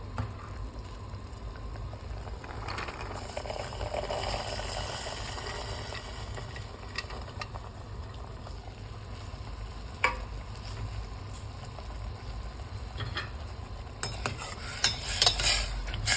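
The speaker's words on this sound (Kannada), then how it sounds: "ಟೊಮೆಟೊ ಪ್ಯೂರಿನ ನೋಡಿ ಸಣ್ಣ ಕುದಿ ಬಂತು ಈಗ ಸೋಯಾ ಕಾಳುಗಳನ್ನು ಹಾಕ್ಕೊಳ್ತಾ ಇದ್ದೀನಿ" Soya beans going into simmering tomato puree for a soybean curry: a soft, steady sizzle and bubbling with occasional spoon stirs and light clinks against the pan, fairly quiet, no talking.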